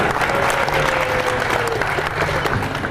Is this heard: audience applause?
yes